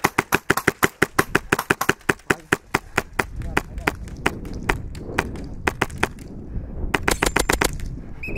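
Airsoft guns fire rapid bursts of suppressing fire outdoors, sharp close cracks in fast rhythmic strings with brief pauses, loud over a background of movement.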